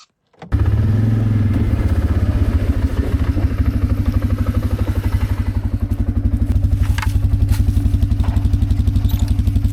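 An ATV engine starts and then runs steadily and loudly while driving through a spring forest, with a low pulsing thrum and occasional knocks and rattles.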